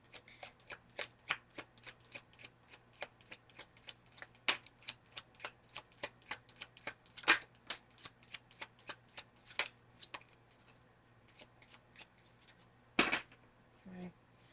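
Tarot cards being shuffled by hand, a long run of quick, crisp riffling snaps and flicks in an uneven rhythm, close and clear in a quiet room, with a couple of louder slaps near the end.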